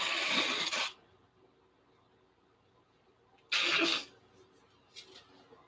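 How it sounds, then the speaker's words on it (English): A person blows their nose twice. Two loud, harsh, breathy honks about three seconds apart, close to the microphone, with quiet between them and a faint sniff afterward. "I'm gonna blow my nose."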